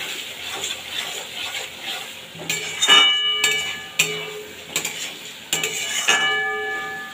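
Metal spoon clinks and scrapes in a pan while potol (pointed gourd) and shrimp masala is stirred and fried down until the oil separates, with a soft sizzle underneath and sharp utensil knocks every second or so.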